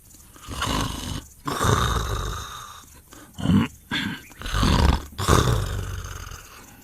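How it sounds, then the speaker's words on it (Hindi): An orchard guard sleeps under a tree in the afternoon heat, snoring loudly and close by in a series of long, rasping, growl-like snores separated by short pauses. "बाग का रखवाला एक पेड़ के नीचे खर्राटे मारकर सो रहा था"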